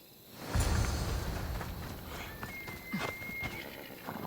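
Galloping horse hoofbeats in Assassin's Creed Odyssey during a race toward a bridge south of Sparta, a steady rapid clip-clop that runs throughout with a brief whinny and a thin tonal whistle over it.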